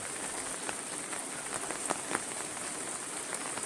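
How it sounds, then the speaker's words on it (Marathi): Steady May rain patters on a surface, with scattered louder drops popping through a constant hiss; no one speaks. "पाऊस मे महिन्यात आल्यामुळे जरा धावपळ झाली"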